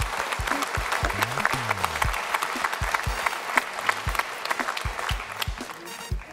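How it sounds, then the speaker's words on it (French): An audience at a French regional presentation ceremony applauds, a dense steady patter of many clapping hands with a few sharper individual claps, moderately close, with voices faintly underneath. "Pierre Fournier-Mongieu et Sylvie Picard, qu'on applaudit tout particulièrement."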